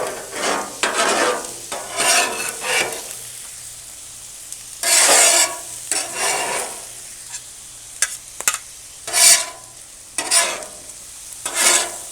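Steak and onions scraped and stirred on a LoCo griddle, with repeated bursts of metal spatula scraping over a steady soft sizzle, close and loud, no talking.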